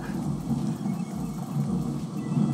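A thunderstorm sound effect plays: a deep continuous rumble of thunder over steady rain hiss, loud and unbroken, with no talking.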